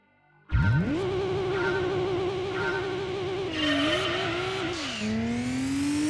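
A tuned race car in Gran Turismo 2 launches from silence in a 400 m acceleration test, its engine snarling up through the revs, dipping at each gear change, then climbing again, loud and close.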